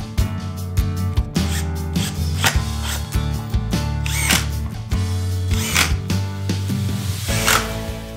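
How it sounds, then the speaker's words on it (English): Epoxy mould pieces are screwed together with a power driver in short, whirring bursts and clicks, mixed with a steady tonal background that sounds like music. No one talks. "So I'm just going to go ahead and screw this together"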